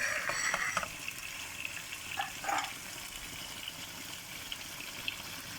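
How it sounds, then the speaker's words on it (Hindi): White chicken karahi with yogurt and green chilies fries in a pan, giving a steady sizzle with a few stirring scrapes and wet bubbling close by and no talking. "और मज़ीद इसको फ्राई करेंगे।"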